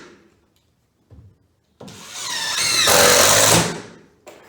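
A power drill drives screws into wood for a weight-bearing wall: a couple of brief bumps, then a loud rising whine as the screw bites and sinks in, ending in a short burst close by.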